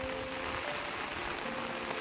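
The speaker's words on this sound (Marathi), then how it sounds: "आणि आता पुन्हा एकदा पाऊस चालू झाला." Steady rain falls outdoors over a village with water-filled field plots, a continuous even hiss with no voices, fairly soft and unbroken throughout.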